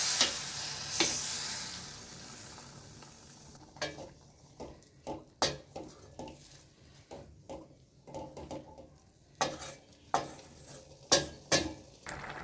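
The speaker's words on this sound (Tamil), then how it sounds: "அடிக்கடி அதை கிண்டிகிட்டே இருங்க." A spoon scrapes and clacks against a pot in irregular bursts as carrots simmer in milk for carrot halwa, a low bubbling close by, with no talking.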